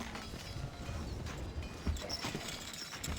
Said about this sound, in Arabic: خيولنا جاهزة. الحصان سريع.